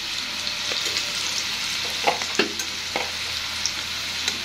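Garlic frying with white mustard paste in a pan, a continuous bright sizzle with scattered sharp crackles and pops, fairly close and with no voices.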